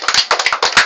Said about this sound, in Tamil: கை தட்டுங்கப்பா,